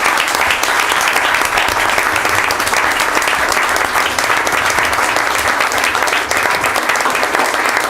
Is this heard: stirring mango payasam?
no